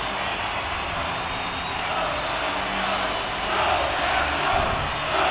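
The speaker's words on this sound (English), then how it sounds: "That's a huge goal to get this crowd on its feet finally." Hockey arena crowd roaring after a tying goal in a Stanley Cup playoff game, a dense sustained wall of cheering that swells louder near the end.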